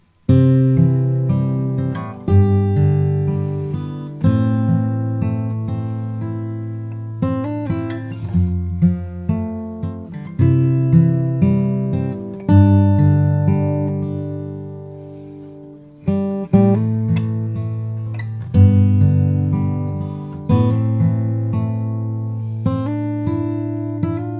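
Solo acoustic guitar fingerpicks a passage of a song, alternating bass notes with melody, steady and unhurried, played close with no voice.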